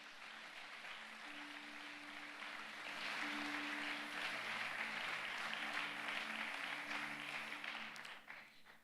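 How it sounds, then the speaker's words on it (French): A church congregation at a Sunday service applauds the Lord in a sustained, dense wash of clapping that swells midway and fades toward the end, with faint voices and a held musical tone underneath. "Est-ce qu'on peut acclamer le Seigneur pour ça?"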